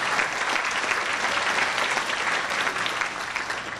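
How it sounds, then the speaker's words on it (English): Guests at a first responders appreciation gala give a sustained round of applause, a dense, steady wash of clapping from a large room. "they deserve a huge round of applause for all their effort and all their hard work"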